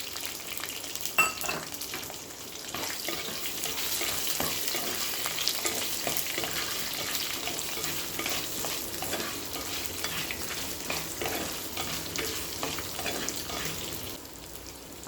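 Onions frying for tomato chutney sizzle steadily in a hot pan while a spoon stirs them, giving a continuous close crackle with scraping knocks throughout and no talking.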